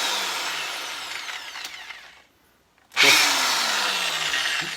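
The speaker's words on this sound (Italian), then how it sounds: "Tolgo la modalità di percussione e provo a forare il legno e poi il metallo." A Parkside PSBM 750 electric drill, hammer mode off, bores into wood with a loud, steady whine. It cuts out for about half a second, then spins up again and runs on.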